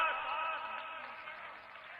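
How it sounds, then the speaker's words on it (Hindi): Applause from a political rally audience welcoming Nitin Nabin, a dense steady patter of many hands clapping at moderate distance, gradually easing in strength. "हम सब जोर से तालियों के साथ"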